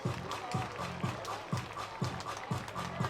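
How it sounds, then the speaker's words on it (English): Baseball crowd claps in a steady rhythmic beat, about two claps per second, distant and fairly faint, with a light crowd murmur underneath. "Everybody clap your hands."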